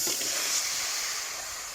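A steady, close hissing sizzle of frog meat frying in a hot pan, fading slightly toward the end.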